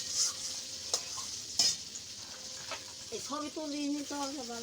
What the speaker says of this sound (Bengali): এখানটায় পনির ভাজা হচ্ছে